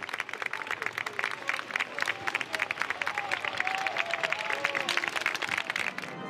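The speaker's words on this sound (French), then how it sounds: "Sous les applaudissements de centaines d'anonymes" Sustained applause from hundreds of people in the crowd at Jacques Chirac's state funeral outside Saint-Sulpice church in Paris, with dense rapid clapping continuing throughout at a steady level.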